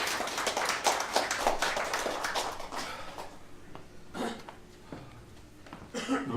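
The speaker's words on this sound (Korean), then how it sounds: "박수로 맞아주시기 바랍니다." Scattered clapping from a small audience at a book launch event, brief and fairly faint, tapering off into quieter room noise with a few isolated sounds.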